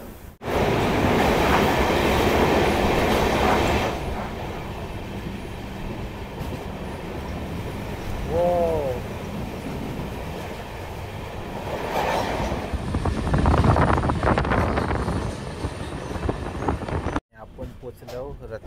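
A new Konkan Railway train running on the tracks, heard from on board: a loud continuous rumble of wheels with clacking, a brief squeal, and voices talking over parts of it.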